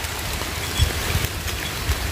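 Steady rain falls outdoors in a continuous broadband hiss, with scattered heavier drops tapping close by.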